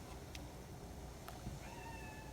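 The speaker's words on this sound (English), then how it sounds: "That's my cat in the background as usual" A faint cat meows once somewhere in the background, rising and drawn out, over a steady low hiss of room noise.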